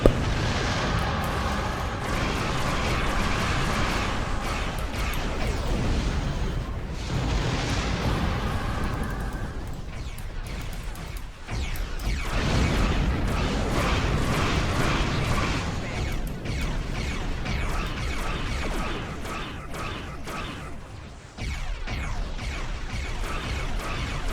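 Space combat explosions and weapon blasts in Star Trek Online rumble densely and loudly throughout, overlapping booms and crashes forming a continuous barrage with a few sharper bursts.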